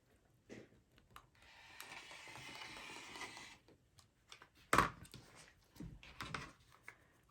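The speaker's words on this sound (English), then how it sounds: "I'm going to cut this with my rotary blade." A rotary blade slices through fabric laid flat along a ruler for a beginners' sewing class: one steady, rough swish lasting a couple of seconds, followed by faint clicks and handling noises and a sharp knock.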